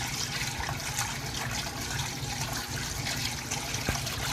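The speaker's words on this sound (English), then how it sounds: "you can already see just how much water is rushing over the top of that now" Water from an aquaponics barrel rushes and splashes continuously over its top rim, a dense, steady gurgling wash with bubbling agitation throughout.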